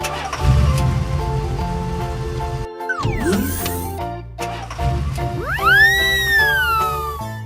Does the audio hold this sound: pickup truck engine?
yes